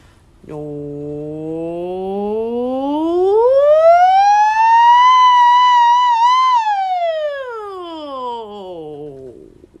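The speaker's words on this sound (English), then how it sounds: "I'm going to do a low to high, back to low slide." A single sustained voice glides smoothly from low pitch up high and back down again, loud and close, like a siren-shaped vocal slide.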